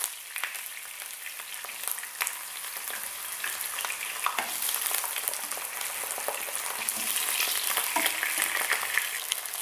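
Eggplant blanched in a little hot oil for a veggie kare-kare, crackling and sizzling steadily throughout, close and moderately quiet, with no voices.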